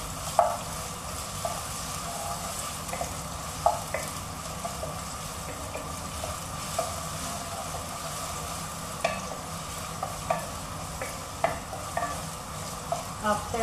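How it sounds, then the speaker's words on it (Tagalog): Ginger sautéing in a non-stick pot for laing, a steady close sizzle throughout with repeated scraping stirs and clacks of a utensil against the pot. "So, igisa na po natin ang luya."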